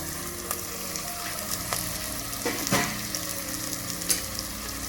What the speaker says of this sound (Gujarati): હવે આપણે એક વખત ભીંડાને હલાવી લઈશું